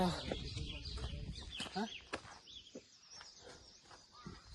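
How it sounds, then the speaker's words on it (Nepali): A rooster crows somewhere in a park in Sikles, mixed in with a few clucks and footsteps. It comes through under nearby talk and outdoor noise and stays moderately faint. "फेरि यहाँ कुखुरा बोलेछ"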